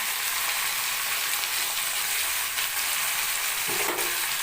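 Potatoes sautéing in a hot pan give a steady, close sizzle with a brief stirring scrape near the end.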